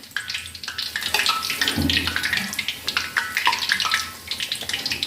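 A vada for vada pav fries in hot oil in a kadai, giving a close, steady crackling sizzle with sharp spattering pops throughout.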